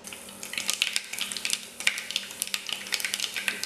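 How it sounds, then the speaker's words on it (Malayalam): Mustard seeds crackle and spit in hot sesame oil in a pan for a Kerala-style pickle, a busy scatter of sharp pops over a soft steady sizzle, moderately close. "എണ്ണ ഇവിടെ ചൂടായിട്ടുണ്ട് അതിലേക്ക് ഒരു സ്പൂൺ ഇതേപോലെ ഒരു സ്പൂൺ കടുകിട്ട് കൊടുക്കുക"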